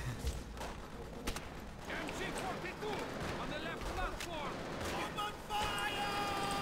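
Dense, continuous gunfire and scattered bursts in the Call of Duty: World at War battle, loud and busy throughout, with someone talking over the shooting and a few sharper cracks standing out.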